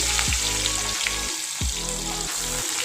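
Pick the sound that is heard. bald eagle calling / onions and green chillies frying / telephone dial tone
onions and green chillies frying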